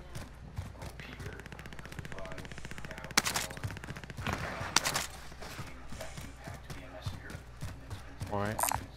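Gunfire in Call of Duty: Modern Warfare, rapid automatic bursts and scattered single cracks, a couple of loud close shots standing out over the game backdrop while players talk throughout.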